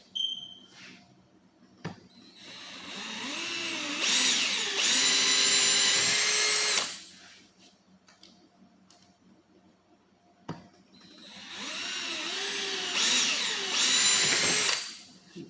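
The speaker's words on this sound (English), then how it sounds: "we're going to drill those out to 1/4 inch" A power drill whirs through two separate quarter-inch holes, each burst lasting a few seconds with a quiet pause between, preceded by faint clicks.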